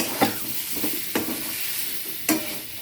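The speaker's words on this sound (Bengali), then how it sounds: "দেখেন আমার পটলটা মোটামুটি ভাজা হয়ে গেছে" Pointed gourd sizzles in a hot pan under a steady hiss, with several distinct scraping strokes of a spatula stirring it.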